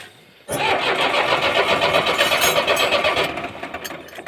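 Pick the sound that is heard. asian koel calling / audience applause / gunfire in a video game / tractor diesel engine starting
tractor diesel engine starting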